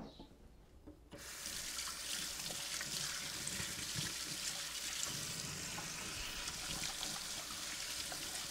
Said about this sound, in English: I'm going to rinse my hands a little bit